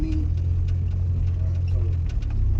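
A car engine hums steadily at low speed during a driving lesson as the gears are changed, a close, even drone with a few faint clicks over it.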